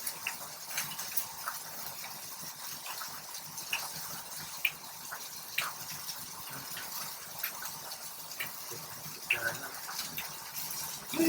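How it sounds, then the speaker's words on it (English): Six quarts of water at a rolling boil in a pot that is too small and filled very high, a steady bubbling hiss with scattered pops and gurgles throughout, fairly close. "Okay, this is boiling. That water is so high."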